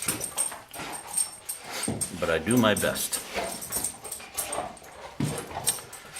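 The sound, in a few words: dog whimpering in the background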